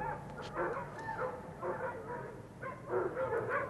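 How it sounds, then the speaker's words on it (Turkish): Several dogs bark and yip in short bursts at a moderate distance at night, a restless, continuous outdoor chorus with some whimpering mixed in. "Köpekler bu gece huysuz."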